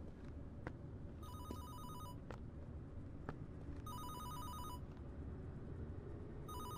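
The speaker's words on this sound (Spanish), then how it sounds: "El teléfono." A telephone bell rings in repeated electronic bursts, each about a second long, separated by pauses, over a steady low background hum in a room with no talking.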